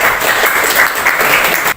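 Short burst of class applause during a physics teaching session, steady clapping for under two seconds that cuts off abruptly.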